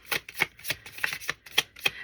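Tarot cards shuffle close to the microphone in quick crisp riffles and slaps, about eight short bursts in an uneven rhythm with brief quiet gaps.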